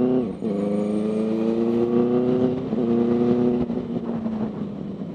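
A Benelli TNT 600i 600 cc motorcycle engine holds a steady, loud exhaust note at close range, blipping up briefly twice and then settling back to a sustained drone.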